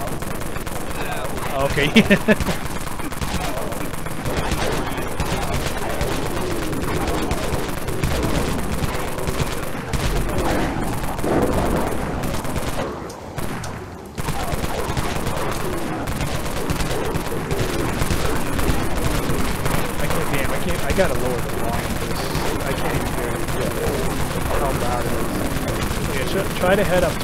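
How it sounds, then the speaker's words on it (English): Rapid automatic gunfire from the online zombie shooter Dead Frontier plays loudly and almost continuously, with a brief dip midway, while a player talks over it. "I'm firing at them."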